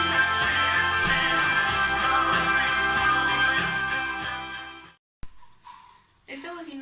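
Repaired 6x9 woofer with a plastic cone and a properly centred 4-ohm coil plays music loudly and up close, stopping abruptly near the five-second mark, followed by a short click and faint trailing sounds.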